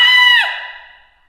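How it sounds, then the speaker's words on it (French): A performer screams a single loud, sustained "Ah!" in a theatre piece, sharp and close, then it trails off into a fading echo. "crier encore « Ah !»"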